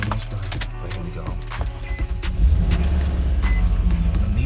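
A Nissan car engine starts and settles into a rough, hard idle, close and loud, with a steady low rumble and some rattling clatter.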